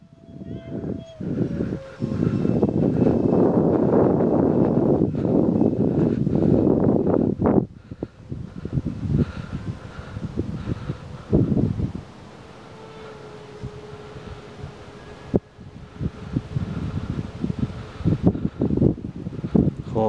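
Strong wind buffets the microphone outdoors while a Dynam Me 262 model jet flies and comes in to land, a loud sustained rumble that eases into gusty, rustling bursts.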